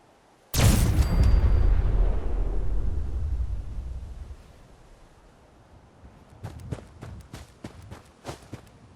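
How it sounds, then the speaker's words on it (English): A sudden powerful blast from a video game energy beam weapon in Fallout 4 erupts and rumbles for several seconds before fading, followed by a series of sharp clicking and tapping sounds. "projects an insanely powerful beam of energy that causes horrifying damage to a very large area"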